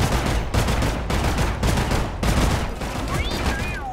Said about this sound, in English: This assault rifle is okay.